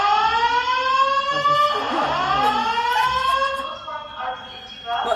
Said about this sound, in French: On commence l'alarme incendie, on n'en peut plus des tests, on n'en peut plus